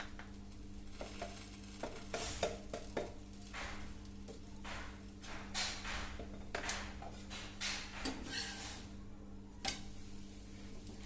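A homemade chapati cooks on a hot pan with oil added around it, putting out a soft steady sizzle broken by occasional scrapes and taps as it is pressed and turned.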